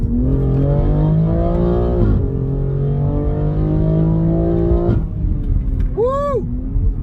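A 2021 BMW X3 M Competition accelerates under launch control, its engine note rising steadily through the gears with brief drops at each shift, loud and close, ending with a short whoop of excitement near the end.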